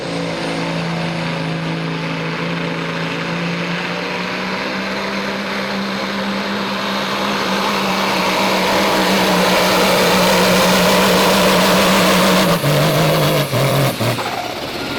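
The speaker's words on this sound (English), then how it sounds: "Wow, that is some serious diesel horsepower" At a truck and tractor pull at a county fair, a diesel semi truck in the semi class gives a loud, sustained engine roar that builds steadily, holds at full power and then breaks into rough bursts near the end, with no talk over it.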